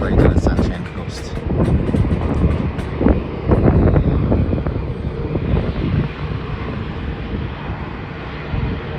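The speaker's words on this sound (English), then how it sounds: "Now there's a Virgin Australia flight going to the Sunshine Coast." A Virgin Australia passenger plane bound for the Sunshine Coast passes at Melbourne Airport, a broad roaring jet engine swelling and fading under gusty wind noise outdoors.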